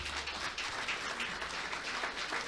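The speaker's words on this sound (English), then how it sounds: "A hand of applause for the project." An audience applauds at the launch of the EU SDGN project, a continuous, fairly faint wash of clapping heard from a distance that holds steady throughout.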